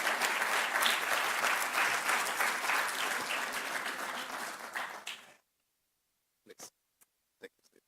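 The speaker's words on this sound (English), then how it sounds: "let's give a hand clap to welcome them" An audience at a live event claps in welcome, a full, sustained round of applause that fades after about five seconds, then a few faint, scattered sounds in near silence.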